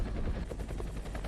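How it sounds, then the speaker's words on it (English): Rapid, steady blade chop of a helicopter in the TV series Pluribus, a close rhythmic thumping that holds at an even level through the whole short stretch. "Helicopter?"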